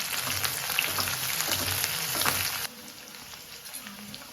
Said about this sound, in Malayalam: കടുക് നന്നായി പൊട്ടിയതിന് ശേഷം